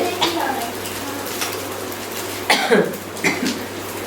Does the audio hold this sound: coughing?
yes